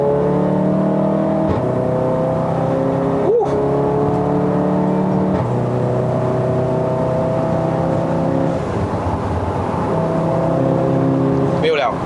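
A Stage 2 MK7 VW Golf R accelerates hard on a Malaysian road, its engine note climbing repeatedly with brief breaks at each gear change, loud and close from inside the car.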